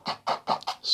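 A brush drags oil paint across canvas while clouds are painted, making about five short, soft scraping strokes in quick succession, close and fairly quiet.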